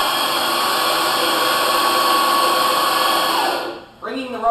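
The motor of a PowerMate M Series stair-climbing hand truck runs with a loud, steady whine up close, then cuts off near the end, followed by a brief mechanical clunk.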